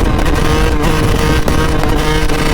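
A Suzuki RM125 two-stroke motorcycle cruises in sixth gear, its engine droning steadily and loudly up close with a constant buzzing tone and no speech.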